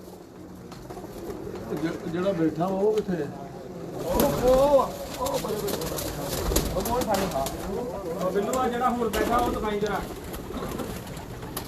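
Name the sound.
pigeons cooing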